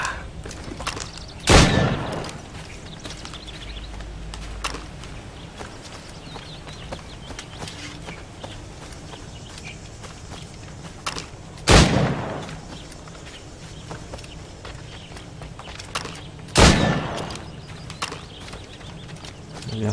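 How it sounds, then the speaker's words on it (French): Hip-fire gunshots in the video game Assassin's Creed Syndicate, three loud sharp reports spaced far apart over a quiet ambient game background, with occasional faint speech. "je vais faire que des tirs au jugé"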